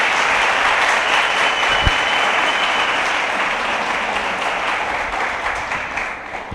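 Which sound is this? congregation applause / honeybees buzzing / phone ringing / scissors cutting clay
congregation applause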